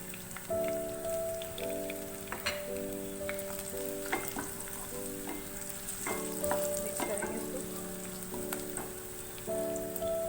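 Cumin seeds hit hot oil with a soft, continuous crackling sizzle like light rain, dotted with sharp pops, while a faint steady tonal hum runs underneath.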